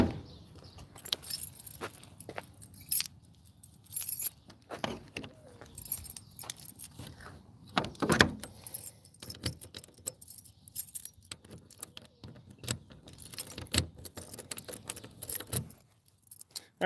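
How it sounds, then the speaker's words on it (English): Metal keys jangle in a series of irregular bursts while someone locks a truck outside, with clinks and rattles scattered across the stretch and a louder clatter partway through. "Just let me lock my truck."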